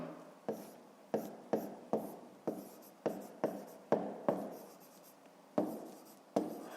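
Chalk or marker writing on a classroom board during a fifth-grade maths lesson: a steady series of about a dozen distinct scratchy strokes in irregular rhythm, close and clear with no talk over them.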